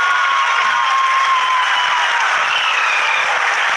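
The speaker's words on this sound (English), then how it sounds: "People are applauding." An audience at the Chandrayaan-3 lunar lander soft landing broadcast applauds in a dense, continuous wash of clapping and crowd noise, loud and sustained, with a faint tone running through it.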